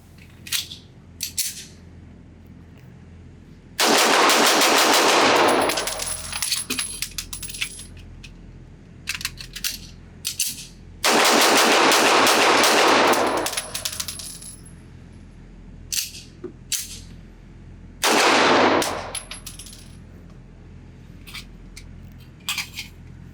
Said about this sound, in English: I'm going to try to shoot this thing as fast as I possibly can, get a new magazine in this thing